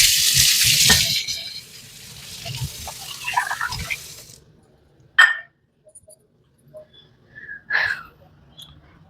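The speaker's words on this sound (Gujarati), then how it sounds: "પાણી વધારે લાગે છે તો એક વાર પાણી કાઢી લીધું" Water being poured off during homemade soap making, a broad splashing gush for about four seconds, then quiet with a couple of brief drips or clinks.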